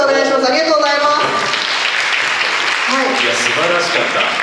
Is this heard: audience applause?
yes